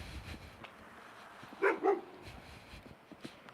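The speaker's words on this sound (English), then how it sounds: "there's the conehead dog." A dog wearing a cone gives two short, sharp barks a moment apart, mid-distance, over a quiet room background.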